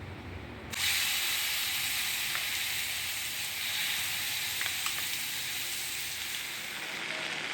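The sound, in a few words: tempering chutney in hot oil, sizzling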